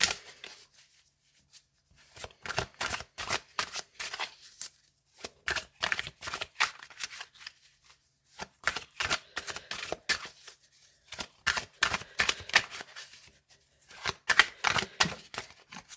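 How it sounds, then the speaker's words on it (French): Tarot cards being shuffled by hand in several separate bursts of quick riffling and flicking, close and crisp, with short quiet pauses between bursts and no talking. "Je voudrais une carte, si c'est possible, pour démarrer cette guidance."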